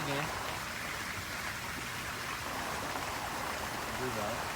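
A water fountain splashes steadily in the background, a continuous soft wash of falling water beneath a calm voice speaking throughout.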